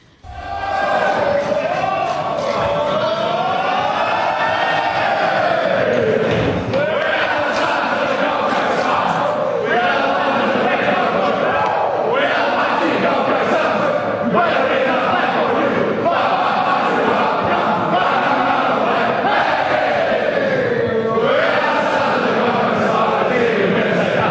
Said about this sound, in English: here the Suns belt out their song for the 13th time this season